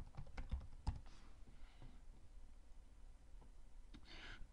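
Someone types a short search on a computer keyboard, a burst of close, crisp key clicks at the start, then sparse taps over quiet room tone.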